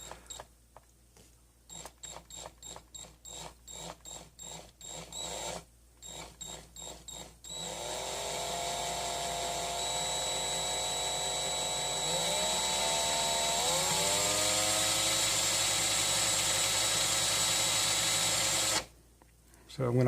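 Power drill twisting wire held in its chuck, first a series of short stuttering bursts, then a long sustained whine that rises in pitch as the motor speeds up before it cuts off, close and fairly quiet.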